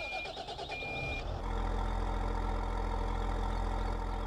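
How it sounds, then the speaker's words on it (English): A Case IH Puma 240 tractor starts up outdoors: about a second of cranking, then the engine catches and settles into a loud, steady idle that runs to the end. "And then we're gonna do another startup from the outside."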